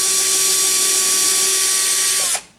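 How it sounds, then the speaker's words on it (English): A power drill bores a hole in a piece of wood, whining at a steady high pitch for about two seconds before spinning down and stopping abruptly. "I'm going to use the drill"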